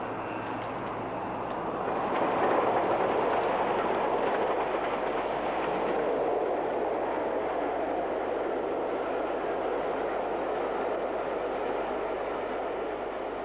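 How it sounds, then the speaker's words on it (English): The locomotive Bahamas hauling a mainline excursion train passes by as a steady, broad rumble that swells after a couple of seconds and then holds loud and continuous, with no voices. "Bahamas is a popular and well-used loco on mainline excursions"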